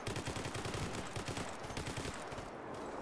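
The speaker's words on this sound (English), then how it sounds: "Just getting freaking ambushed by Unisig all of a sudden." Rapid automatic gunfire rattles through an ambush in the S.T.A.L.K.E.R. GAMMA shooter game, with dense, continuous bursts of shots that stay loud throughout.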